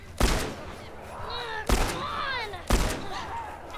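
Three loud gunshots ring out in The Last of Us at roughly even intervals, each a sharp blast that tails off, with high, bending tones between the shots.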